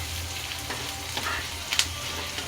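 Onions frying in a pan until golden, a steady close sizzle with faint stirring scrapes and a few brief clinks, and no talking.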